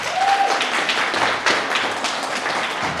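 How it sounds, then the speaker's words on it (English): An audience claps for Mayor Sullivan at an African American flag raising ceremony, a dense continuous wash of applause with occasional louder claps, steady throughout. "Please give Mayor Sullivan a hand clap."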